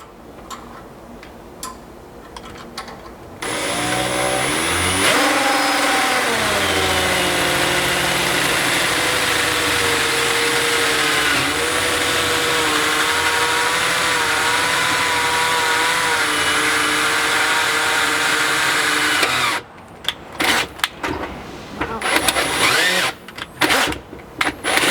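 A power drill fitted with a small 1/8-inch pilot bit bores into the floor of a 4th-generation Toyota 4Runner, whining steadily for about sixteen seconds with slight pitch shifts, framed by brief clicks and handling noises before and after.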